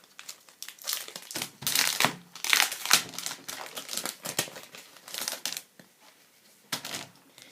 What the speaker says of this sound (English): So I'm just going to grab some coloured paper.